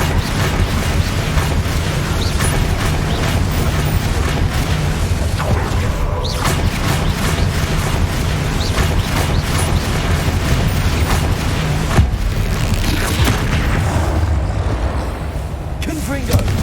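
Fiery Confringo spell blasts in Hogwarts Legacy, a dense, loud barrage of booming explosions and rumbling mechanical game noise filling the whole stretch, with voices mixed in throughout.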